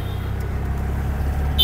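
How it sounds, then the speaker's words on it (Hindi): A three-wheeler tempo carries passengers through Pondicherry, its engine giving a steady, close rumble with road noise, and a short bright horn-like toot comes near the end. "देखिए पौंडीचेरी की राइड। हम बैठे हैं 3 व्हीलर टेम्पो में"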